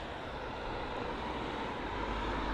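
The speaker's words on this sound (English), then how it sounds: "And so we've got the Lingus A321 Neo," An Aer Lingus Airbus A321neo at London Heathrow, a steady, broad jet engine roar held at moderate level throughout, with no talk.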